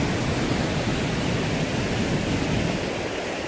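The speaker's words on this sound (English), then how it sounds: "Look at that, nice little waterfall" Steady rushing of a small waterfall in Cwmorthin valley in the Moelwyn mountains of Wales, a dense continuous wash of falling water close by with no voices.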